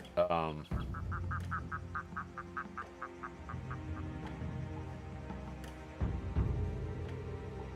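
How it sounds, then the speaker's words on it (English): A bird calls inside the stealth video game Shadow Tactics: a quick run of about a dozen evenly spaced, quack-like chirps over a low game ambience, followed later by a louder burst. "A bird's voice."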